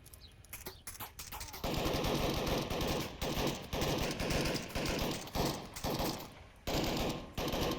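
Rapid bursts of automatic gunfire from the VR shooter Onward during a competitive match. Loud, dense volleys repeat in clusters with brief gaps between them, and there is no talk over the shooting.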